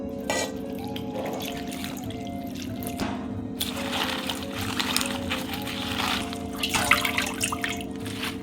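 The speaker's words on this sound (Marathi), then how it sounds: "आता भाजीला स्वच्छ आपल्याला खळखळ धुवून घ्यायचं आहे." Spinach leaves are washed in running water at a kitchen sink, with steady splashing, trickling and dripping close by, intensifying toward the end.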